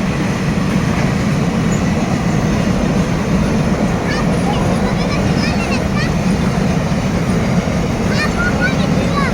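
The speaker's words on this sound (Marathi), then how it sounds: "ही आमच्या गावावरनं मालगाडी जाते" A freight train rolls past a village with a steady, loud rumbling drone that fills the whole stretch, and small chirps occasionally rise above it.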